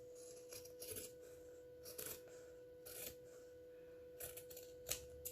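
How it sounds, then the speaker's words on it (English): Scissors cutting the edge off a cardboard Creamette pasta box: several faint, short snipping rasps spaced a second or so apart, with a steady low hum behind them in an otherwise quiet room. "I'm going to cut this edge off."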